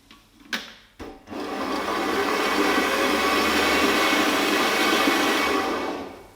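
A metal band saw starts after a couple of brief clicks and then runs smoothly at a steady, even whirring hum for several seconds before winding down at the end.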